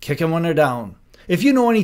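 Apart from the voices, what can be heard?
No everyday noises stand out.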